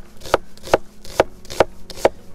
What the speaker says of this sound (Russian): И теперь нарезаем лук. Лук режем обычный, стандарт полукольц.